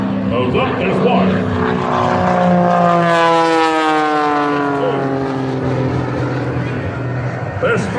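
An aerobatic propeller plane flies a four-point roll at an air show, its loud droning engine sweeping in pitch as it passes overhead, steady and sustained throughout.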